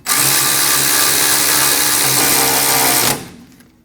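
A power tool runs steadily while snugging rear brake caliper bracket bolts on a 2012-2022 Volkswagen Passat, a loud, continuous whirring drone lasting about three seconds before cutting off abruptly and fading.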